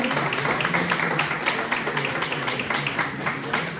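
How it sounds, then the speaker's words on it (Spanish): Audience applause at a folk song (tonada) festival in Returbiu, a dense, steady stretch of clapping from a crowd that keeps going for about four seconds with a faint voice underneath. "Un aplauso para ellos"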